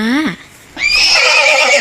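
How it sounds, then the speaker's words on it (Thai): A horse on a farm gives a loud, close whinny that slides down in pitch, then rises into a high, wavering neigh that trails on alone. "ส่วนตัวที่สามเป็นม้า"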